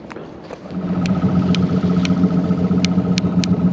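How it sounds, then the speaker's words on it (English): Outboard main motor of a fishing boat idling and running on Lake Michigan while coho fishing, a steady close engine drone with a low hum, joined by a few sharp clicks and taps. "So now we're running the main motor."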